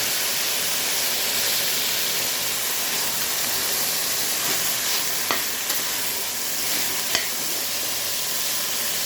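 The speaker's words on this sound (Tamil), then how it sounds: "வதங்கிட்டு இப்போ காலிஃப்ளவர் சேர்த்துருக்காங்க." Cauliflower sautés with garlic in a pan, a loud, even hissing sizzle that runs throughout, with only a few faint utensil clicks and no speech.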